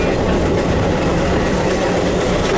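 An electric commuter train runs in Chicago, giving a loud, steady rumble with a continuous rattle of wheels on the track and no voices.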